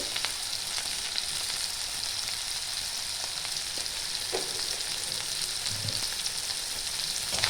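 Spices with salt, turmeric, cumin and chili powder fry in a pan for a fish roe and potato curry, a steady close sizzle with faint stirring scrapes throughout, no talking.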